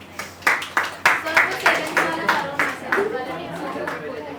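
Students in a classroom clap in a quick run of about a dozen sharp claps that slow and fade out, with chatter in the room under them.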